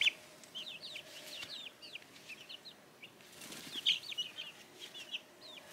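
Chickens in a farm coop, with repeated clucks and squawks and a couple of bursts of wing flapping, fairly close but soft, no talk.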